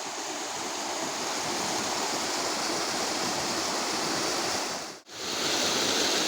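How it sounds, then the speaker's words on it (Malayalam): Water rushing loudly over the check dam at Modavara Dam during rain in a constant roar, with a brief dropout near the end. "വെള്ളം നന്നായിട്ടേ പതഞ്ഞൊഴുകുന്നുണ്ട് താഴത്തേക്ക്."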